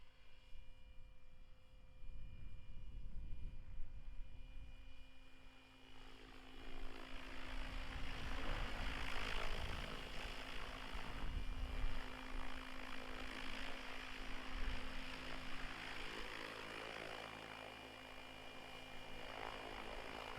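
A radio-controlled model helicopter flies and hovers near a landing pad, its rotor and motor producing a steady whirring drone with faint tonal whine, rising in intensity partway through and holding fairly constant at moderate distance.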